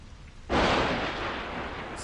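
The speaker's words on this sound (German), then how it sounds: "mit diesem kryptischen Gewitterschlag" A sudden loud thunderclap in the video game Observer bursts in after a quiet start and rolls on as a sustained broad rumble to the end.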